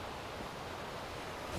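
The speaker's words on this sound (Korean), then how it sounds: "파도 소리가 이제 다 들리네." Ocean waves wash on the shore of Nangdo island near Yeosu as a steady, even rushing hiss, faint and continuous with no voices.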